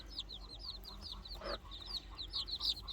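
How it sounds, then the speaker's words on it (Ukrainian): Young chicks peep in quick, high, repeated chirps close by, with soft hen clucking and low farmyard rumble underneath, faint and continuous. "Бачите, повністю здорові курчатка."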